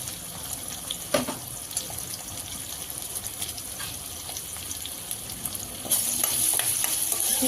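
Onion pieces and green chillies frying in a pan for chicken masala curry, a continuous close sizzle with occasional stirring scrapes, growing slightly louder and brighter near the end.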